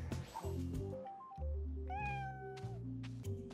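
A cat meows in a long, drawn-out call that rises and falls, heard faintly over steady musical tones with no one speaking.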